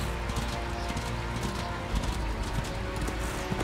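Horse hooves clip-clop in the Darksiders 2 video game, a steady galloping patter mixed with game music and ambient noise, with a narrator talking over it.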